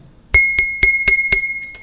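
A glass chambong clinking: five sharp, bright glass taps in quick succession, each ringing briefly, then a couple of softer taps fading out.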